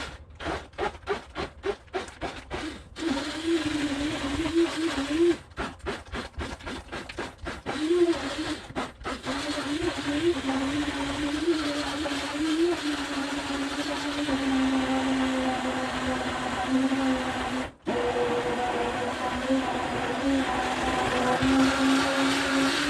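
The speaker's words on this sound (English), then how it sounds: "Just going to use one of these kind of cheapo hand blenders." A cheap hand blender whirs steadily through carrot and coriander soup, starting in a few short stuttering pulses before settling into a continuous loud drone with one brief cutoff near the end.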